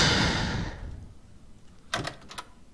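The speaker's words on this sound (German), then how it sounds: "die Tür ist mal so zugegangen" A door swings shut in the survival horror game Resident Evil 7, heard as a short cluster of soft knocks and a latch click after a fading wash of noise, alone and at moderate distance.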